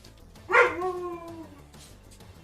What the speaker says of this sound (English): The dog is announcing to the world that he is in fact a dog